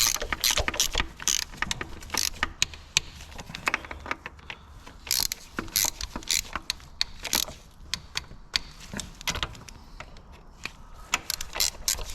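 Ratchet tightening screws on a Peugeot 5008 during a timing belt and water pump replacement, a steady run of close, rapid metallic clicks and ratcheting bursts with no talking.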